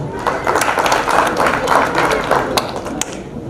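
Applause from an audience at an award programme in Mumbai, dense steady clapping that holds at an even level throughout, with a few sharper claps standing out.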